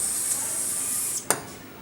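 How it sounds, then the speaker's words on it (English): A steady hiss of a spray nozzle applying cutting fluid onto a metal lathe workpiece and drill runs for over a second, then stops, followed by a short sharp burst of spray. "quickly spray a bit of this tool cutting fluid just to make the whole thing a bit easier"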